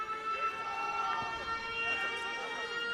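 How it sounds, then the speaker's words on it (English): A siren sounds at the end of an under-18 international rugby union match between Ireland and Georgia, a sustained wailing tone with sweeping pitch running through the whole stretch over crowd noise. "and the siren goes."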